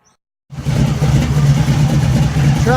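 A car engine idling on a freezing winter morning in southern Indiana starts up abruptly after a moment of silence, then runs at a loud, steady, rumbling idle close by.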